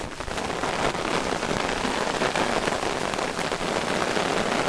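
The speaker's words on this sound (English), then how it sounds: "It is absolutely the heavens opening." Heavy rain pours down steadily and loudly outdoors, a dense continuous hiss with pattering on nearby surfaces throughout.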